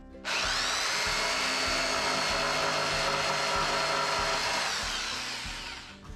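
A power saw cuts through drawer material with a loud, steady high-pitched whine that starts abruptly, holds for several seconds, then winds down, heard close with no voices.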